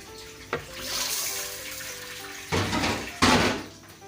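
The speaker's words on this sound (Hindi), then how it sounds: "थोड़ा हम इसके अंदर पानी ऐड करेंगे ताकि हमारा मसाला अच्छे से पक जाए।" Water poured into a pot of cooking masala for an egg and potato curry, a splashing pour followed by two louder bursts of sizzling and gushing water, close and with no voices.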